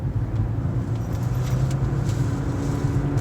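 A 2015 Lexus CT 200h F Sport hybrid under full-throttle acceleration gives a steady, droning engine hum with road rumble from inside the cabin, loud and continuous.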